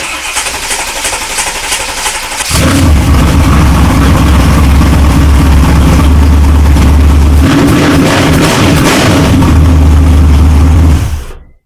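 A car engine cranks briefly and fires up after a boost from a Marscle jump pack in a garage, then settles into a loud, steady idle with a slight surge before cutting off near the end; no talking.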